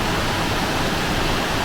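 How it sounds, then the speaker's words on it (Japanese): A waterfall pours powerfully beside an open-air onsen bath at a hot-spring inn in Higashiyama Onsen, Fukushima, heard as a loud, steady, dense roar with no breaks. "奥の方完全に開放されていて、滝がものすごい豪快に流れてます"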